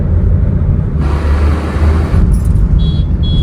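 A car drives along a winding hilly ghat road through forest, its steady engine rumble and road noise loud and continuous throughout, with a brief higher-pitched tone near the end.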